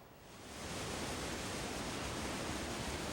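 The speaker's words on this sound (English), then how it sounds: "The sound and visual delight of falling water is one of the great joys of Rainier" A waterfall at Mount Rainier, water pouring over rock in a steady, dense, full rushing roar that swells in during the first half second and then holds constant.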